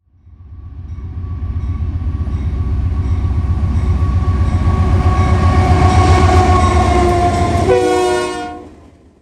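A Norfolk Southern freight train led by a rebuilt GE Union Pacific locomotive, an AC4400CWM, rumbles past close by. It swells to a loud, steady roar with wheel clatter, then a horn blast sounds near the end before the noise falls away.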